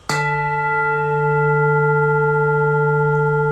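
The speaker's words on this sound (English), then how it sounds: "This is a Tibetan bowl." A Tibetan singing bowl, a full moon bowl, struck once, ringing with a bright attack and a long, steady shimmering hum of layered tones that sustains without fading.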